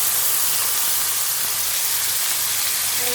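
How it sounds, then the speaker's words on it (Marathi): Masala paste frying in hot oil in a kadhai, a loud, steady hiss and sizzle that holds evenly throughout. "आणि व्यवस्थित फ्राय करून घेऊया आपण"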